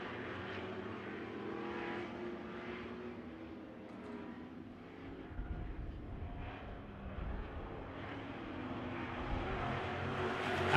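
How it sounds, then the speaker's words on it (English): Super trucks racing on the oval at Victory Lane Speedway, engines droning steadily at a distance with a deeper surge of passing motors midway, no talk over it. "Eric Gio and Audette now giving chase to the Cattons 2D."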